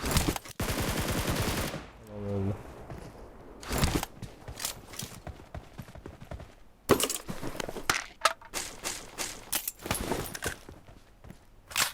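Gunfire in PUBG Mobile as a player shoots through a door: rapid bursts of automatic fire alternating with sharp single shots and shuffling footsteps, loud and close, with brief pauses between volleys.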